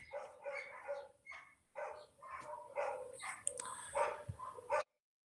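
A dog barks outdoors in bursts of several barks separated by short pauses, somewhat distant but clear, with no talk over it.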